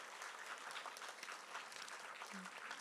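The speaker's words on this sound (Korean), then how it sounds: "다 함께 큰 박수로 축복하시겠습니다." A church congregation applauds in a sustained, dense round of clapping that fills the room evenly, without a break, for nearly three seconds.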